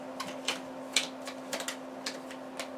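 Playing cards riffled and shuffled in short, crisp bursts at a steady rhythm, close and fairly quiet over a faint electrical hum, with no talking, during a family game of Monster Party.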